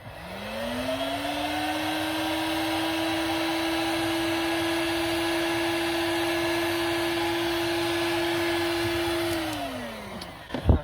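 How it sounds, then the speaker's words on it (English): Heat gun whirring up to a steady, loud, whining drone while shrinking heat shrink tubing over a wire, holding constant for several seconds before spinning down, followed by a couple of brief clicks. "I'll get my heat gun out."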